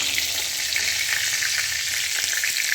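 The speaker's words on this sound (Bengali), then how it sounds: "সব কটা কাঁকড়া ভেজে নিয়েছি" Crabs fry in hot oil with a dense, even sizzle and a crackle that stays loud and close throughout the short stretch, with no voices.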